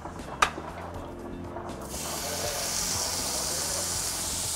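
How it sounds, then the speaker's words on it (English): A steak hits a hot oiled grill and breaks into a loud, steady hiss of sizzling after a short clatter, continuing evenly to the end without talk. "If you can hear that sound, that's the sound you want when you're putting your steak on."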